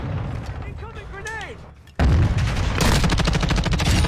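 A grenade blast in a video game bursts in loudly and is followed by sustained rapid gunfire, after a stretch of quieter voices and background noise.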